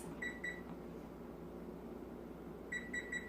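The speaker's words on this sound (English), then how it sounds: "we're just going to put our timer on here for 25 minutes" A kitchen oven timer being set gives short, high electronic beeps in two quick bursts, one at the start and one near the end, over a faint hum of room noise.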